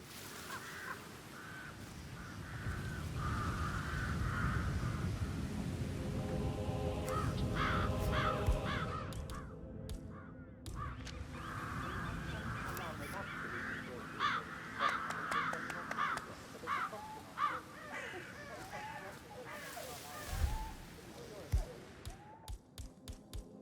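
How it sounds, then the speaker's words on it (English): Harsh cawing of crows in Hitman 3, scattered calls that come and go over ambient game noise and speech, with a few sharp thuds near the end. "I'll never get rid of those stupid birds."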